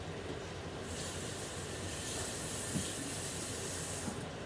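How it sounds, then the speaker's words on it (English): A utensil is rinsed under a running tap during sweet and sour chicken prep, giving a steady, soft hiss of water that starts just under a second in and flows continuously until near the end, fairly quiet overall. "Let me rinse this off."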